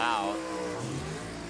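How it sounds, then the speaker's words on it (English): A drag racing car accelerates at full power during a drag race, a loud rising engine roar with climbing harmonics that sweeps up then drops into a rumbling tone, close and dominant over about a second and a half. "Now we can see what the car can do all out."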